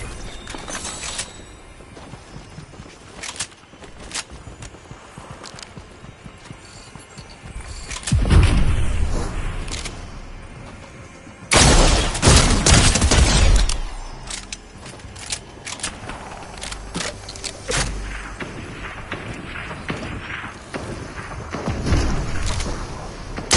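Shotgun blasts from the Fortnite Ranger shotgun boom loudly in two heavy bursts over a busy backdrop of game noise.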